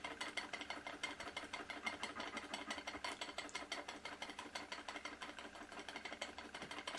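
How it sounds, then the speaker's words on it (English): A John Ericsson steam engine runs quietly and smoothly, giving a steady, rapid mechanical clatter with an even rhythm throughout, close by and with no voices. "very quiet, smooth running engine."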